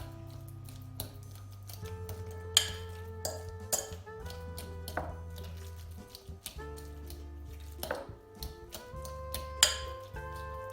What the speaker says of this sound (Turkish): avokadolarımızı biraz ezelim. Çok da püre haline getirmeyelim.